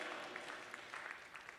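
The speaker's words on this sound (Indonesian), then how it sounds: "Tepuk tangan lebih meriah lagi bagi Yesus." A church congregation at a worship service applauds in a steady, dense wash of clapping, fairly distant and continuous throughout.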